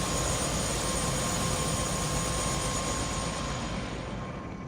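Helicopter rotor blades in the video game Prey, a dense, steady broadband whir and rumble that fills the whole clip at high level before easing slightly toward the end, with no voices over it.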